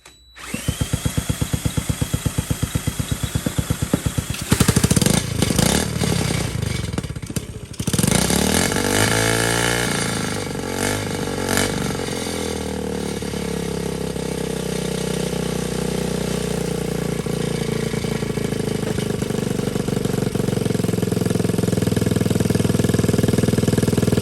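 A Honda XL70 motorcycle engine turns over with a rapid, rough pulsing, sputters, then catches and settles into a steady, loud, close-up idle that runs to the end.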